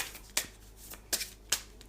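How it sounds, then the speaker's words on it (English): A deck of spirit oracle cards being shuffled, three sharp riffling bursts close by against a quiet background. "So I'm going to shuffle them now, and we'll just see which card comes up."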